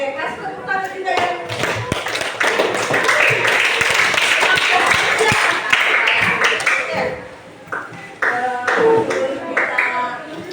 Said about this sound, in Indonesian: Oke, kasih tepuk tangan juga ya.